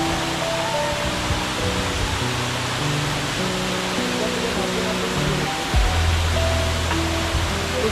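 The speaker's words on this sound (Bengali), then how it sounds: "উপর থেকে জলটা পড়ছে" Bamni Falls pours water down from above, a dense continuous roar of falling water, broad and steady throughout, with faint voices murmuring beneath it.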